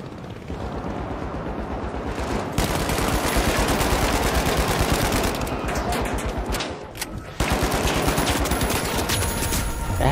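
Automatic weapon fire in The Finals runs as rapid, continuous close bursts, loud and dense, with a brief gap before the shooting resumes just as hard.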